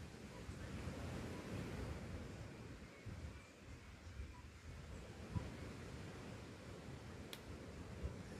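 Waves washing onto a beach, heard as a continuous broad rush of surf mixed with gusty wind noise on the microphone. The sound stays steady and moderately loud throughout, with no distinct voices.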